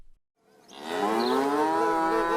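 A single cow gives one long, drawn-out moo that swells in after a brief silence and holds loud and close to the end, with no other sounds around it.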